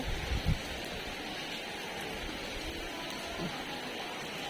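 Steady rain pouring down during Cyclone Fengal in Chennai, a dense even hiss that carries on without pause, with a few faint low thumps near the start.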